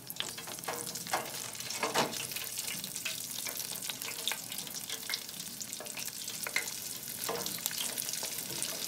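Chicken pieces frying in hot grease, a continuous close crackling sizzle with scattered sharper pops and occasional stirring clatter, no talking.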